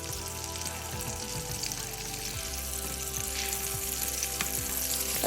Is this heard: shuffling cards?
no